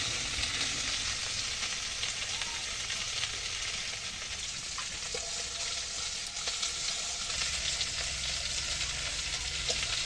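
Small puti fish coated with salt and turmeric frying in a pan, a loud, close, continuous sizzle with scattered pops and crackles, unbroken by speech.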